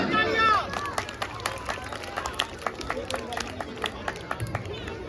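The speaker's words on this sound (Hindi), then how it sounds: "तालियां।" An audience claps steadily at a Ramleela stage play, a continuous patter of applause with crowd murmur and a voice over the first moment.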